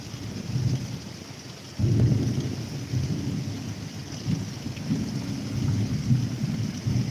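Thunder from nearby lightning breaks in as a sudden loud, deep rumble that rolls on for several seconds over steady rain and faint wind.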